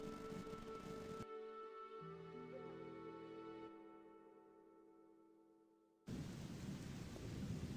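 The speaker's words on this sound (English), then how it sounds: "Rain!" Rain and thunder in the video game Gothic II: a loud roar of rain and rumbling thunder cuts out abruptly, leaving layered sustained tones that fade, then the storm noise returns as suddenly.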